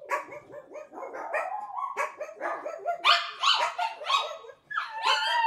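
Several pet dogs bark and yip excitedly in a rapid, overlapping stream of loud, close barks with whimpering yelps, continuing for several seconds without any speech.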